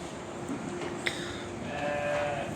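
Female sheep bleat in a farm pen, a couple of brief calls with one sharper cry near the middle and a longer bleat toward the end, over steady barnyard background noise.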